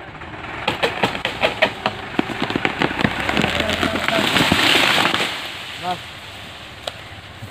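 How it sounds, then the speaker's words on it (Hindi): A large tree in a village is pulled down by a tractor, with a rapid series of sharp cracking and snapping branches building into a rushing crash, then settling as the engine keeps running. "देखिए दरख्त गिर गया है।"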